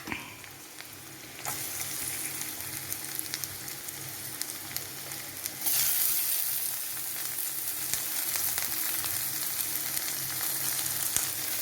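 Sliced onion sizzles in a hot pan for pork curry, the crackling frying swelling louder as more is added and then holding as a steady, close hiss.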